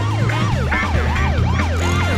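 A police car siren in The Simpsons Hit and Run video game wails in a loud, rapid up-and-down cycle that repeats steadily throughout, close and continuous over a low engine rumble.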